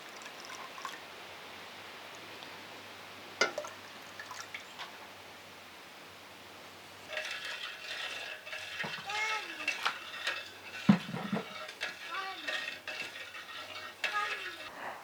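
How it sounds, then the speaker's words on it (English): Homemade elderflower cordial is poured from a pot into smaller pots in a kitchen, with quiet liquid splashing, drips and light clinks of containers after a near-silent start. "Now it's dissolved, let's pour this into our pots."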